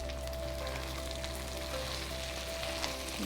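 Chicken frying in a pan with fresh curry leaves and chili powder as it is stirred, a dense continuous sizzle with a low steady hum underneath, close and even throughout.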